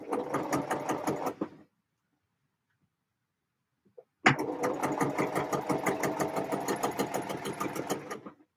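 Close, rapid needle chatter comes from a sewing machine stitching a seam. One short burst is followed by a pause of more than two seconds, then a longer steady run that stops at the end.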